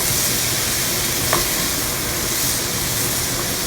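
Tomatoes and mushrooms fry in a hot pan with a steady, close sizzle and hiss that runs the whole time, broken by one brief clink partway through; no voices.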